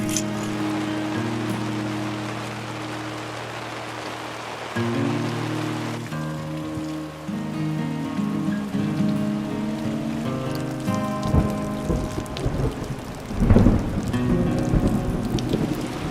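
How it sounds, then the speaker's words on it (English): Rain and rolling thunder from a thunderstorm moving over the mountains at a fishing campsite, with steady rainfall and a louder rumble building near the end; no one speaks. "Looks like there's a thunderstorm, might be rolling in."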